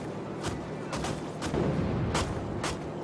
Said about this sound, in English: I'm taking a beating because of the anti-aircraft fire